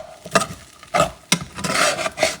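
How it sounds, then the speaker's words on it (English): Ground beef and rice sizzle softly in a pot while a spoon scrapes and stirs in a few short, close strokes, with quiet frying hiss between them. "Just a little stir."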